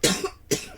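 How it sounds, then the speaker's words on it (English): Two short, close, harsh coughs from a single person, separated by a brief pause. "Still have a little bit of cough."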